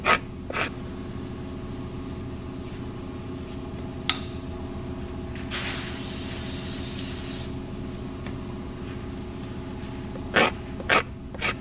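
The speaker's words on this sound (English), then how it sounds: "cleaner aerosol to the repair area on the interior of the tire." A short hissing burst of aerosol rubber cleaner sprayed onto the inside of a tire during a repair, lasting about two seconds, framed by scattered clicks and taps in a quiet room.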